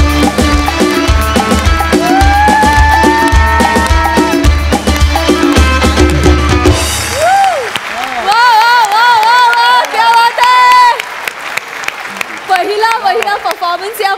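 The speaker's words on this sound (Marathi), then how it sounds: "मस्त जोरदार टाळ्या" A theatre audience claps and cheers loudly after a Marathi stage comedy performance. The applause runs alongside loud music throughout, with a brief dip midway before the clapping and music swell again.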